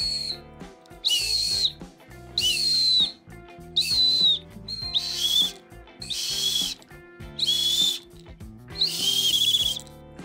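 Apito whistle blown in a repeating series of about seven short, loud shrill blasts with brief gaps between them, mixed with a low tonal background and no speech.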